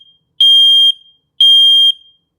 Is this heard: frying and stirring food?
no